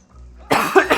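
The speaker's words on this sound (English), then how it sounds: "I already start coughing because it's damn sickness" A single sharp cough bursts out after a quiet stretch, close and loud, with a second smaller hack following.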